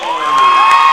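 A high school basketball crowd in a gym cheers for a player at a Clyde-Savannah vs. Lyons rivalry game, a loud sustained roar with a bright whistle-like tone running through it.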